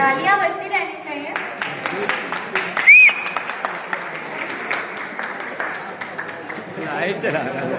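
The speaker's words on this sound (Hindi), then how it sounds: "तालियां बजती रहनी चाहिए।" An audience at a convocation ceremony for a Lucknow industrial training institute claps steadily, a crowded patter of many hands running throughout, with voices and chatter mixed in and a brief whistle near the middle.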